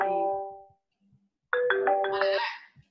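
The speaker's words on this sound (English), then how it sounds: "Is that your phone?" A mobile phone ringtone plays, a short melodic tone phrase that fades out, then after a brief pause starts again with a brighter, repeating pattern, loud and clear indoors.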